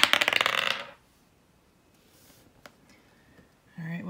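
Dice rattle and clatter sharply for a moment, close and loud, then fall silent with a few faint taps and small movements after them.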